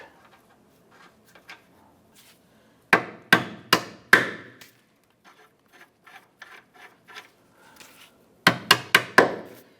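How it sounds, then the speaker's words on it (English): A hammer gently taps on a nut to drive a rear trailing arm bolt out of a 2008-2013 Nissan Rogue, landing as two clusters of four sharp metallic knocks, with faint scraping in between. "I'm going to gently tap on this to get that bolt to work out through the other side"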